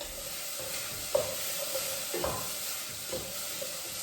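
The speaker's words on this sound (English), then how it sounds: "So as the vegetables are sweated" Vegetables sweating in a pan for spicy black beans give a soft, steady sizzle, with a few brief stirring scrapes and taps. There is no talk.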